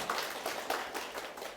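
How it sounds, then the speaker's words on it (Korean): Scattered clapping from a lecture audience, faint and a little distant, with a handful of uneven claps over under two seconds. "박수 한번 쳐보세요"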